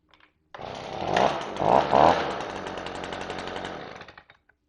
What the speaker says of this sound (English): That's how we start the BG50 blower.